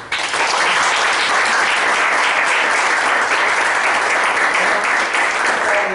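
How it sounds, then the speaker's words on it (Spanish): A full, even burst of clapping from the audience at a philosophy café session, many hands applauding together at a constant loud level for the whole stretch. "yo quiero dar un merecido aplauso a Paulina"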